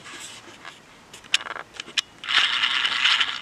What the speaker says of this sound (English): we'll simply remove that bolt there